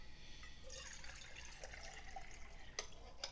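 Cold well water runs from a tap into a 20-ounce Stanley mess kit pot, a faint steady trickle and splash with a couple of brief metallic clinks near the end.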